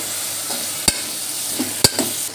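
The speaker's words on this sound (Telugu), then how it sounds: "మనం కట్ చేసుకున్న వంకాయ ముక్కలు అయితే వేసేసుకోవాలి" Cut eggplant pieces fry in a pan with a constant soft sizzle, interrupted by two sharp metallic clicks of a spoon against the pan and faint stirring scrapes, no voices.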